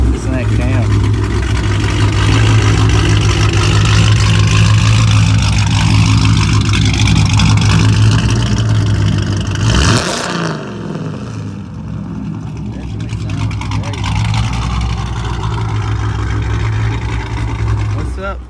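A supercharged, built-motor 2016 Scat Pack with a big cam arrives loudly, its engine droning and loping up close, then the pitch swoops as it passes and settles into a rough idle, with people talking over it.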